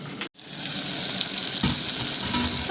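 Sardines (omena) sizzle steadily in a hot pan, a continuous bright crackle with a brief dropout near the start and a soft clink partway through.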